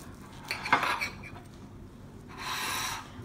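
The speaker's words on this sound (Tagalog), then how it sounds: "Hiwain na natin. Mainit pa siya." A knife cuts through a still-warm banana cake in a pan, with a short scraping and clinking of metal against the tin early on and a longer soft rasping cut near the end, close and fairly clear.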